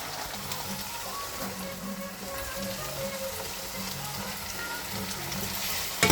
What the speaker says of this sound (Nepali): अब यहाँ मासु एकदम पाक्ने अवस्थामा छ, पाकिरहेको छ।